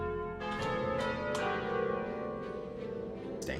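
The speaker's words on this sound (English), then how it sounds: "Let's ring those bells." Church-style bells ring out as a streaming sound effect, several overlapping resonant strikes with long shimmering decay, loud and close with no talking over them.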